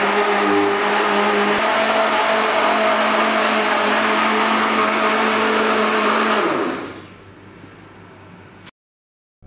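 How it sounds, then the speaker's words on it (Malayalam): A blender whirs loudly and steadily, pureeing cooled broccoli soup into a fine paste, then winds down around the seventh second and falls silent near the end. "നമ്മളൊരു ബ്ലെൻഡറിൽ ഇട്ടിട്ട് നന്നായിട്ടൊന്ന് ഫൈൻ പേസ്റ്റ് ആക്കി എടുക്കണം"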